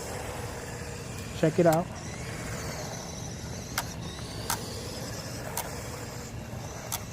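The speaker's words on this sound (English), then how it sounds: "So this thing does some really nice drifting and sliding." A GPTOYS McGruff S926 1:12 scale 4x4 RC truck drives and slides, its small electric motor whirring steadily with a few brief clicks while someone talks over it.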